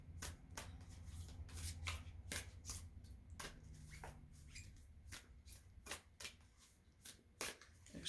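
A fairly new, stiff deck of playing cards is shuffled repeatedly, giving sharp riffling bursts in a steady rhythm with soft handling rustles between, close up and with no voices.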